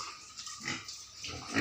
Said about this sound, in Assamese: মই গাহৰি খুৱাইছোঁ